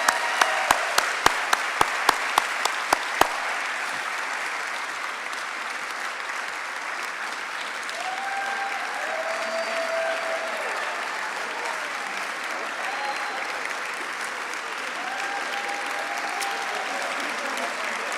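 Audience applause for a university steel drum band at a 2018 service celebration, opening with a few loud, separate claps before settling into sustained, even clapping from a moderately sized crowd, with faint murmuring voices underneath.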